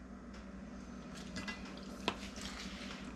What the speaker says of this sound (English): let me just stir this in just a little bit